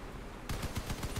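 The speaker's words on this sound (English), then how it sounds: "There's a guy with an autocannon, of course." Autocannon fire in the vehicle-combat game Crossout: after a quiet moment, a rapid burst of about six heavy, evenly spaced booming shots rings out loud and close.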